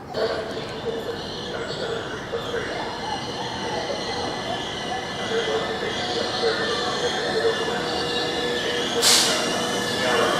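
Steady rumble of a Northern passenger train to Manchester Victoria in motion, with continuous wheel and carriage noise and a brief high squeal near the end.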